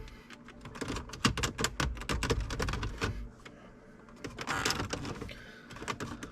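Plastic dash trim being pried and pulled off a 2013 Audi A4 B8.5, a close cluster of quiet clicks, snaps and rattling scrapes, with a short louder rustle near the end.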